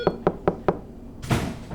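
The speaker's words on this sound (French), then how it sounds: "il n'entend pas qu'on frappe à sa porte" Four sharp knocks on a door land in a steady, evenly spaced rhythm, close and clear, followed by a brief burst of broader noise.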